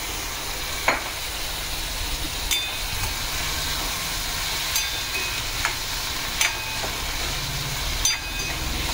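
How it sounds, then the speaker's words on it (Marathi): Tomatoes cook in a pan over low heat, giving a soft, steady sizzle with a few faint clicks and pops scattered through it. "आता ही आपल्याला टोमॅटो छान शिजवून घ्यायचं आहे."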